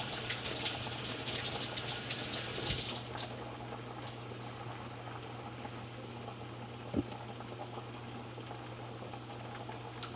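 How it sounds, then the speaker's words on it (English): A kitchen tap runs steadily as hands are washed under it, a constant hiss of water with a brief louder splash near the start, then continuing more softly. "Wash my hands."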